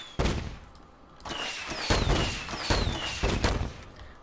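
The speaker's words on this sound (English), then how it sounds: "Now we have this Gatling gun thingamajig" A Gatling gun fires in Dead Rising 2 in several loud bursts of rapid booming shots, separated by short gaps, with whining tones sweeping over the gunfire.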